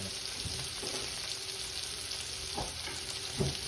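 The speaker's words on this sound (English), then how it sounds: "so we're just searing this off" Salisbury steak patties sear in a hot pan with a steady, loud sizzle and crackle that runs throughout, broken by a few soft scraping or shifting sounds.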